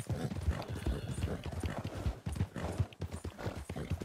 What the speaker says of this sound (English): There's two horses.